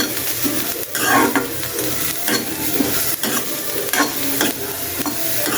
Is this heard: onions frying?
yes